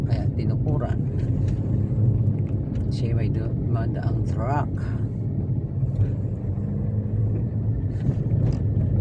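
A truck rumbling through a road tunnel, a steady low engine drone with reverberant hum, while people talk over it close by.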